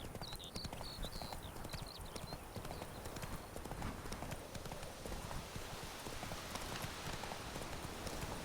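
Hooves of Roach, the horse in the video game The Witcher 3, galloping in a fast, even run of close clip-clops over a rain-like hiss, with faint bird chirps early on.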